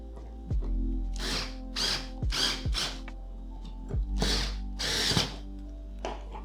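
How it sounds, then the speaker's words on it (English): A power screwdriver drives screws to mount fan parts on a $5 PCIe GPU fan cooler, several short whirring bursts each ending in a sharp stop, close and clear with pauses between screws. "let's just screw all this in first"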